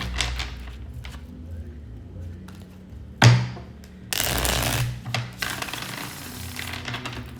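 Tarot cards being shuffled by hand, a soft papery riffle and slide with a sharp snap partway through, followed by a longer burst of brisk card shuffling up close.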